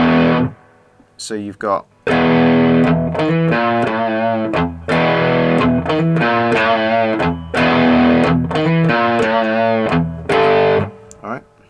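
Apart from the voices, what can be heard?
cigar box guitar played through distortion effect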